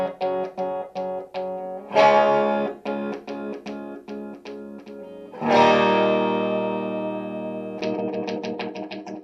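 Electric guitar kill switch pushed rapidly to chop distorted notes into a stuttering machine-gun pattern, with staccato bursts broken by longer sustained chords, loud and alone.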